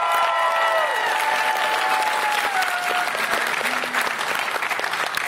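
An audience applauds steadily and loudly throughout, a dense wash of clapping with a few faint whistles, honoring public safety staff at a multi-day event.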